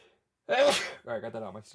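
One sharp sneeze bursts out abruptly after a moment of quiet, close and loud, and a person starts talking right after it.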